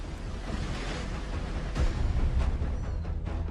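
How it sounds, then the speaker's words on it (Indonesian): Strong storm wind strikes traditional rice barns at Tongkonan Karatuan in North Sanggala, Tana Toraja, South Sulawesi, a constant loud, rough roar and buffeting that swells midway with no voices. "Angin kencang yang menerjang bangunan lumbung warga di Tongkonan Karatuan, Kecamatan Sanggala Utara, Tanah Toraja, Sulawesi Selatan terekam kamera warga"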